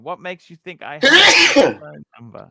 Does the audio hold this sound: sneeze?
yes